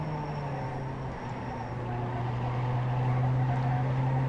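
Damaged race car with a locked-up wheel in the iRacing sim, its engine a steady loud drone with a strong low hum and a rough, grinding undertone running continuously throughout.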